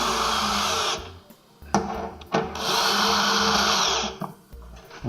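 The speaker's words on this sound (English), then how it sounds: "Then we'll use speed driver with a 5/16." A power speed driver with a 5/16 socket whirs in loud close bursts while fastening a Nitro Fuzer Lite plastic welder, its high steady whine stopping and restarting with brief pauses between.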